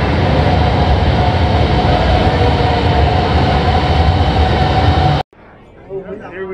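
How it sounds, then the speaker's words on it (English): Cat Linh Ha Dong metro train pulling into a station, a loud, steady rumbling roar that fills the platform for about five seconds before cutting off abruptly, leaving quieter ambience with faint voices. "And there is a train coming."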